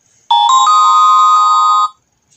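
Lenovo K12 Pro smartphone ringtone, a loud, close electronic chime tone that holds for about a second and a half and then stops.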